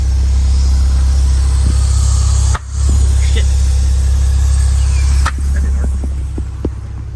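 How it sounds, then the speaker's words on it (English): A Porsche engine, started for a blow-by test, holds a loud, steady low idle hum close by, broken by two brief dips and a few light clicks. "I'm gonna go ahead and fire the car up"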